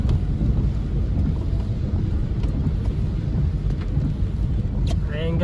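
A typhoon thunderstorm sweeps over a road in the early evening dark, a continuous heavy roar of rain and wind with deep rumbling underneath, loud and unbroken throughout.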